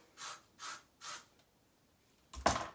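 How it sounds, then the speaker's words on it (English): Three short hissing bursts of hairspray aimed at the hair roots in quick succession, close by, followed by a louder rustling burst at the end. "just spray right at the root"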